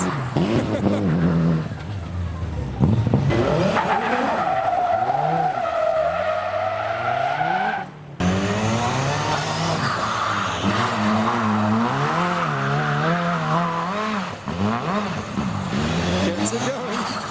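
A Mitsubishi Evo drifts in a car park, its tires squealing loudly and continuously in wavering pitches while the engine revs rise and fall, with a brief break midway before the screech resumes.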